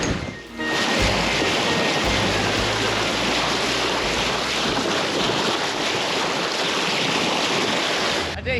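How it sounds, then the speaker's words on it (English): A loud, steady thrum of an approaching fast ferry's engines, heard from a sailboat, with rushing water and wind noise running throughout, broad and continuous with no pauses. "There's a massive thrum of engines as there's a fast ferry approaching us."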